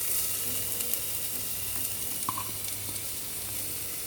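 Ground paste sizzles in sesame oil in a clay pot, giving a dense, even crackle with one brief clink of a utensil partway through.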